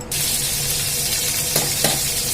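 Capsicum, green chillies and curry leaves fry in hot oil with a dense, steady sizzle, close by, with a couple of faint stirring scrapes in the pan.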